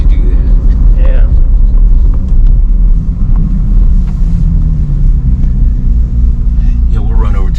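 A 2024 Corvette Z06 rumbles low and heavy in touring mode, a steady loud engine drone heard from inside the car, with people talking over it.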